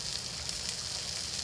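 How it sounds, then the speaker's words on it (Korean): Hairtail fish grilling on Geomundo island, a steady, close hiss and crackle of sizzling that holds evenly throughout with no voices. "지글지글 갈치구이까지."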